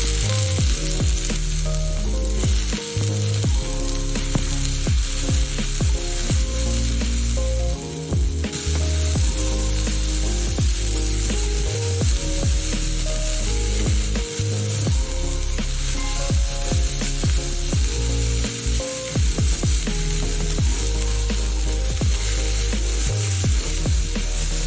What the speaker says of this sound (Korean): 그리고 감자도 있는데 오래 걸리니 같이 넣어주세요. 골고루 익을 때까지 잘 볶아줍니다.